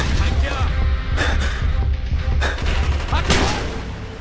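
Gunfire in Call of Duty: Black Ops on Veteran difficulty: loud, sustained automatic fire with several heavier bursts, heard close up under shouted voices.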